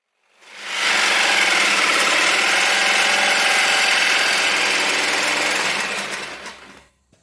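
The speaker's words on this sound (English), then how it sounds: "go back to the jigsaw and see if I can finish it off with the jigsaw" A jigsaw cuts through a steel fire tube in one continuous, loud, harsh buzzing run of about six seconds that rises quickly and then tapers away.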